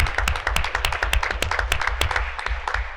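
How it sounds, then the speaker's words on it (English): Audience applause at a school board meeting, sharp distinct handclaps mixed with a general patter of clapping, close and lively, with low rumbling room noise beneath. "Let's give her a round of applause"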